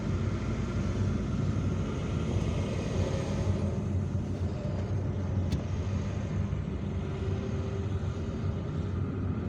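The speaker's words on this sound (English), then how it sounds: "the cars on the left over there are driving towards over there on the left where traffic is fluid" Steady traffic on an Algiers motorway, cars driving along in free-flowing traffic, heard as a continuous broad road rumble and tire noise throughout, close and fairly loud with no talk.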